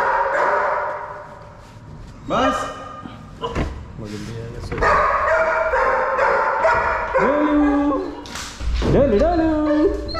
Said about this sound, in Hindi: और डोलू ने भौंकना शुरू कर दिया है